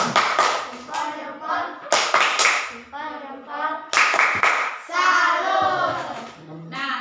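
A classroom claps a patterned 'tepuk salut' rhythm in bursts of quick claps, with children's voices chanting between the clapping groups.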